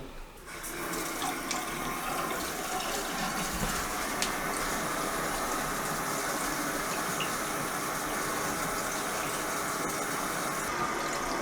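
Water running from a sink into a Wowflo macerating pump unit during a fill test, a steady continuous rush and trickle of flowing water, close and fairly loud throughout with no talking.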